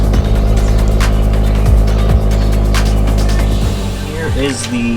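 A 2022 Subaru WRX with an AWE Touring stainless catback exhaust starts up and settles into a loud, steady idle rumble, with a few brief revs and pops heard close by.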